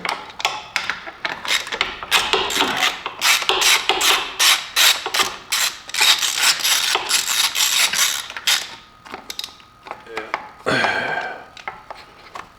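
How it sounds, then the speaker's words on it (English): Torx T30 driver working a small bracket that holds the evaporative canister to the frame of a Husqvarna 701 Enduro, giving dense, rapid ratcheting clicks and scraping close up for about nine seconds, then a few scattered taps. "using a Torx T30, is just go ahead and remove this little bracket that holds the canister to the frame."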